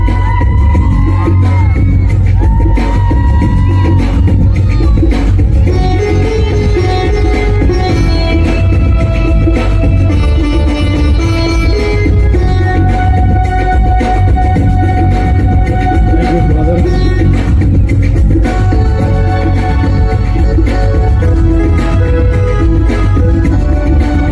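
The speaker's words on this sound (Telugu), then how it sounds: "గట్టిగా చప్పట్లు" A church crowd at a rosary month closing celebration claps and cheers loudly and continuously, with whoops and shouts over a steady wash of noise.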